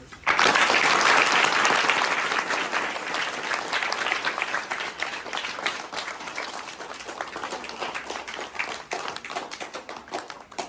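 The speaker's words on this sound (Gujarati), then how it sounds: "બધા એમને રંગીતભાઈ અને એમની ટીમને 2 તાળીનું માન આપશે" A school audience gives a round of applause for a visiting cook and his team who served breakfast, dense clapping bursting in loudly, then gradually thinning and tapering toward scattered claps.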